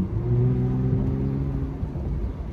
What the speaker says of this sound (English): The car sounds insane.